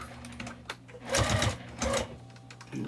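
A sewing machine top stitching a fabric wristlet runs in two short close bursts of rapid mechanical stitching, with brief pauses and light handling noises between.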